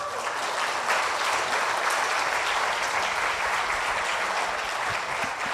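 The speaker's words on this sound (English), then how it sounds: "Please, one big applause for the jury." Steady, full applause from an awards ceremony audience honoring the jury, a thick, continuous roar of many hands that stays loud and even throughout.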